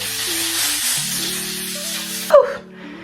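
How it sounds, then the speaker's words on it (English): A steady broadband hiss of spray runs for over two seconds beneath faint musical tones, ending with a brief sharp burst before fading. "you don't want to spray it too close"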